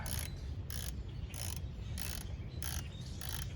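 A ratchet turns a bolt on the power steering pump of a 2007 Cadillac DTS, six evenly spaced bursts of quick clicking over a low mechanical hum, close and fairly quiet, with no talking.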